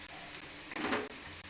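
Garlic frying in oil, with ground mustard going in, gives a soft, faint sizzle broken by a few brief stirring scrapes and light clicks against the pan.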